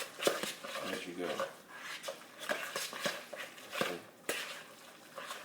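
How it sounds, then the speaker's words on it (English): A spoon stirs sweet tuna salad with spices in a bowl, giving faint repeated clinks and scrapes in a loose rhythm, fairly close and quiet. "Keep stirring until you get all of the spices mixed in as you go."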